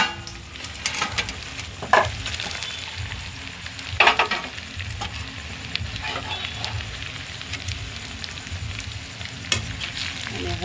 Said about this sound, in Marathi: आता टाकतोय आपण ह्याच्यात हे पनीर.